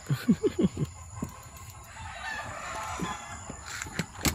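Chickens cluck in a quick run of sharp calls at the start, then scattered crowing and clucking follows at moderate distance over faint background noise.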